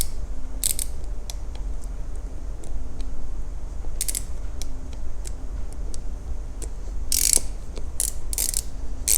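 A ratchet wrench tightens the diaphragm clamp on a T100/Q155 low-pressure diaphragm toward 80 inch-pounds, giving repeated sharp clicking bursts in irregular groups over a constant low hum.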